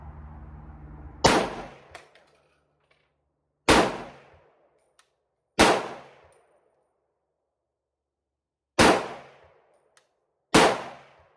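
A Century Arms VSKA rifle fires five sharp, loud shots at an outdoor range, spaced irregularly with brief echoing decays and silence between them.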